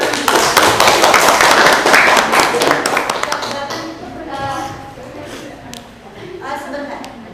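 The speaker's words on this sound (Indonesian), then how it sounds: "Oke, beri tepuk tangan." A classroom audience claps loudly and raggedly for a few seconds, then the applause thins out as voices take over in the room.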